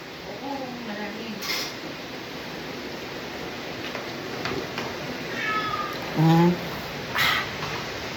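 A cat meows a few times, fairly close, begging for food, over a steady hiss with faint clinks of dishes in the background.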